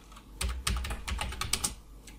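Typing a command on a computer keyboard while setting up Windows in a virtual machine, a quick irregular run of close, crisp key clicks with no talk.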